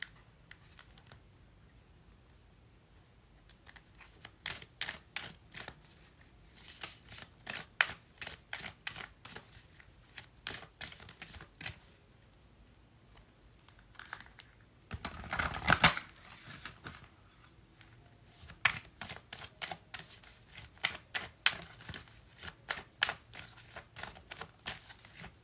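Reading cards are shuffled repeatedly, making soft, quick rhythmic riffles and flicks in bursts with short pauses between, close up and fairly quiet.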